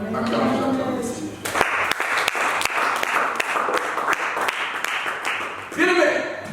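A church congregation bursts into sustained applause for the Lord during a French-language service. Steady, dense clapping lasts about four seconds, with a voice speaking before it and again after it fades.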